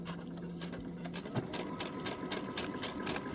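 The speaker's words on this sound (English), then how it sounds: "I'm going to lower my needle and I'll take the pin out, lower my foot, and stitch" A sewing machine stitches a seam on a slip dress, giving a steady, close, rhythmic whirring hum with a fast needle patter that runs unbroken through the clip and has no talk over it.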